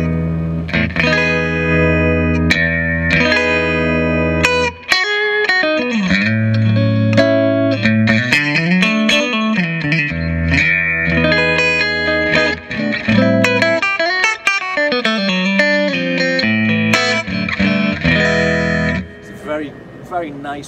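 Electric guitar played through a Line 6 amp on a classic American clean voicing, with bright chords and single-note runs that ring warm and clear with a touch of effects shimmer, loud and continuous for about twenty seconds.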